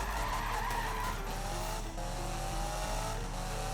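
Car drifting in Need for Speed (2015) on a race track, a continuous loud tire squeal and skid over a steady engine drone, sustained throughout with slight dips in pitch and no talking.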